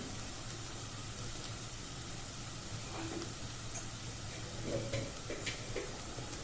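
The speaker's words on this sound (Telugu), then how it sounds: "అల్లం వెల్లుల్లి పేస్ట్ పచ్చి వాసన పోయే వరకు కూడా వేయించుకోండి" Ginger garlic paste frying with browned onions in a pan, a steady close sizzle with faint stirring scrapes and clinks, heard alone with no talk.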